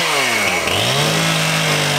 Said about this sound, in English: My brother's got the chainsaw